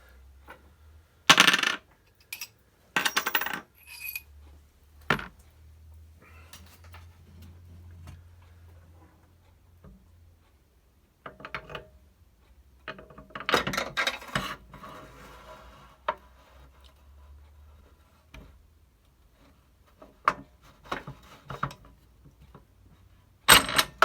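Metal motorcycle parts, including an old spindle, handled during a dry assembly of a Kawasaki Ninja ZX9R custom build: sharp clinks, taps and rattles in irregular bursts, close, separated by quiet pauses over a low hum.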